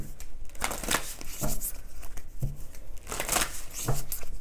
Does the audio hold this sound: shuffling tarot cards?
yes